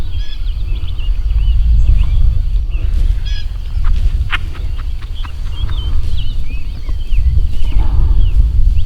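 Distant turkey calls during Kentucky turkey season break through steady low wind rumble, with a gobble burst and scattered chirps sounding faint and far away.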